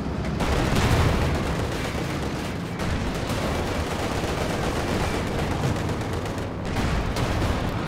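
A Werfer rocket artillery barrage in Company of Heroes 2 pounds away in a loud, dense, continuous volley of rapid blasts and crackling impacts that barely lets up.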